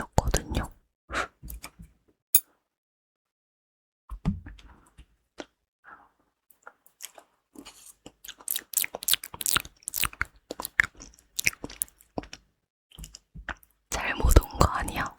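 Crunchy mala tang eaten up close, crisp bites and chewing in scattered bursts between quiet pauses, with soft whispered talk in between and a denser run of crunching toward the end.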